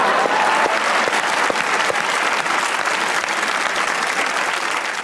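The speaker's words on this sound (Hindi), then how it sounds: "एक बार तालियां होनी चाहिए फाद" A television studio audience applauds steadily during a comedy talk show, a dense, close wall of clapping that holds at full strength for the whole stretch with no voices on top.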